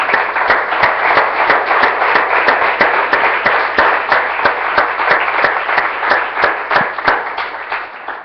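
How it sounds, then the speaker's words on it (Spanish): A church congregation claps together in a steady rhythmic beat, sharp regular claps over a continuous bed of applause lasting several seconds. "Démosle un aplauso al Señor, hermano."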